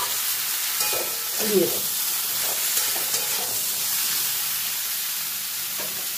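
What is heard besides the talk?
sizzling while stirring eggplant and vegetables in a pan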